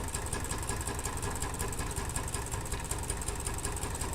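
A homemade Stirling engine running on ambient heat winds down with a rapid, even mechanical chugging and clatter, close up and continuous, with no voices.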